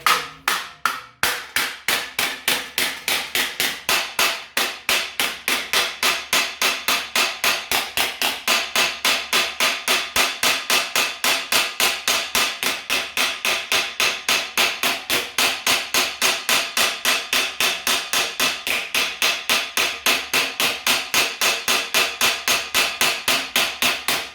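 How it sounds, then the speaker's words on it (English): Fast, steady crown-hammer blows on sheet metal while forming swages, sharp metallic strikes repeating at an even rhythm for a long stretch with no talking. "obviously got the wrong crown hammer here"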